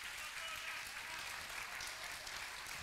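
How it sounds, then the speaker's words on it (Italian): An audience at the finale of an equestrian show applauds with steady, dense clapping that continues throughout, fairly distant and soft, while a voice speaks over it. "Fate di nuovo un applauso a colei che è stata anche la mia sorella di questo viaggio, Gloria Mulas."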